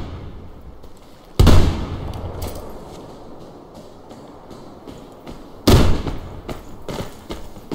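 Two loud, booming shotgun blasts from the video game Survarium, a few seconds apart, each with a short decaying tail over a steady game ambience.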